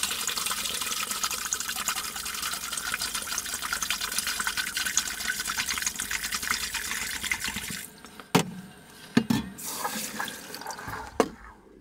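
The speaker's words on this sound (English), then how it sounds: "And pour the hot water into the bottle." Hot water poured into a fermentation bottle for home brewing, a steady rushing pour for about eight seconds, then stopping, followed by a few sloshes and drips.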